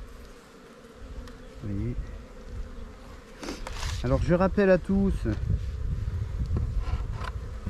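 Honeybees buzz around an open hive on a spring inspection, a dense close drone with individual bees whining past, while someone talks over it.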